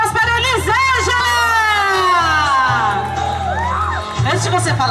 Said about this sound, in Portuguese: Uma salva de palmas para a Elisângela!